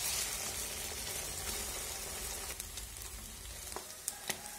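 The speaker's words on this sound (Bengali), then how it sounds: "এরকমভাবে খুব ভালোভাবে অল্প আঁচে অমলেটটা বানাতে হবে" An egg omelette fries in a pan over low heat, giving a steady, even sizzle throughout with a few small crackles and clicks near the end, and no voices.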